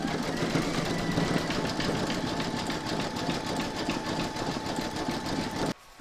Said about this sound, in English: you're going to stitch round number 10, and that's going to do the satin stitch around the legs and around the outside border